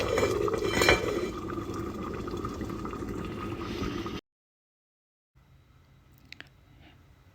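A lid is set down on a pot of cooking pulao rice, a single clank over steady bubbling and sizzling, followed by near silence and a faint later click.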